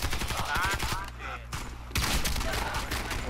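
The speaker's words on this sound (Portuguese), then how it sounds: "Tocou dois tiros, Aguiar." Rapid bursts of gunfire from the online shooter game Warface, loud and closely spaced, broken by a short lull and then resuming, with a player's voice talking between the shots.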